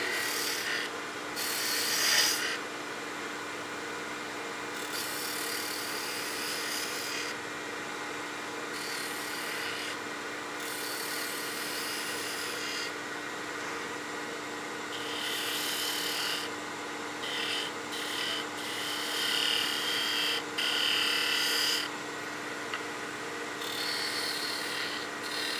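Spindle gouge shearing wood on a spinning lathe, a steady rasping, rubbing cut with intermittent bursts of brighter scraping as the tool engages, continuous over a low motor hum without talk.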